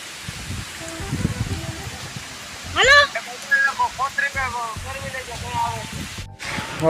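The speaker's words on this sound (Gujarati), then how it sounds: "વરસાદ ચાલુ થઈ ગયો" Steady hiss of rain falling, with a voice calling out briefly in the middle.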